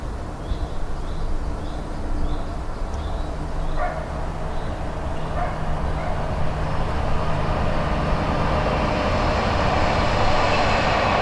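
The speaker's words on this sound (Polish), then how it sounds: "Za dużo jest tych pociągów, za często one jeżdżą" Train rumbling steadily past on a railway, a loud continuous roar with faint squeals above it that swells gradually toward the end, with no talking.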